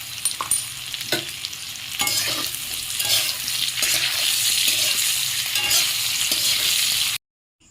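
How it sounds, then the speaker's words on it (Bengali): Ground spices, including cumin and black pepper powder, sizzle hard in hot oil in a pan for a Bengali fish curry with raw banana, with steady frying hiss and repeated scraping stirs, ending abruptly in silence. "এভাবে 2 মিনিটের মতো ভালো করে মশলাটা কষিয়ে নিয়ে"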